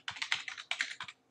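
Close, quiet typing on a computer keyboard, two short bursts of rapid clicking keystrokes separated by a brief pause, with no voices.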